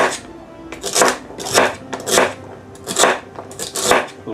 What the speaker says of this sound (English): In fact, we're going to do some dicing on this.